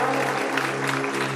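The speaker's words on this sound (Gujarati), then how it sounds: "ચાલો તાળીઓથી વધાવો." Audience at a BAPS study workshop event applauding after a recited verse; steady, dense clapping runs throughout with a low constant hum beneath, fairly loud and continuous.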